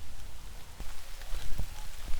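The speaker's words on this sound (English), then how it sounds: "If only the rain could stop." Steady rain patters on a forest hiking trail on the Raknus Selu Trail in Miaoli, a continuous hiss with a few closer drops tapping, and no voices.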